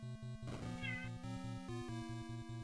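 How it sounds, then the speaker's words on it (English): A single cat meow rising and falling over a looping chiptune melody from a Zelda 1 randomizer game, the electronic music steady and prominent throughout. "you hear a cat."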